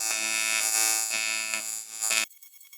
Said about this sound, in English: AC TIG gets me every time, just how much louder it is and how much different it is from standard